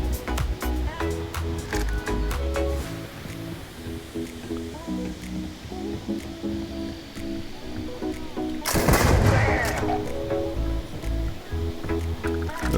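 Repeated shots from the Ashta Tamer weapon in Starfield, with a loud burst near the end over continuous game music and ambience.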